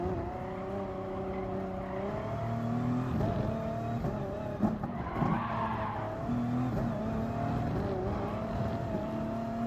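Race car tires skid and squeal under heavy braking in Gran Turismo Sport, a sustained engine drone shifting pitch beneath the scrubbing rubber, with a brief harsher burst midway.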